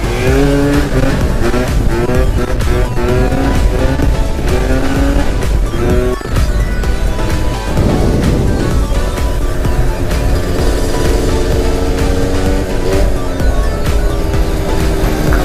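A 50cc scooter engine revving hard during a wheelie, loud and close, with a buzzing two-stroke whine that rises and falls as the throttle is worked, briefly dipping then climbing again.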